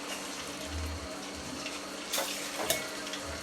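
Boiled cracked wheat tipped into hot ghee in a pan for sheera, giving a soft sizzle with stirring and scraping and a couple of sharper clinks, close and fairly quiet.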